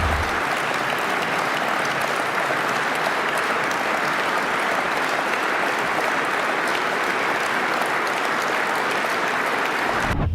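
Long, sustained applause from a crowd, a dense and even wash of clapping that holds at steady volume for about ten seconds before cutting off abruptly.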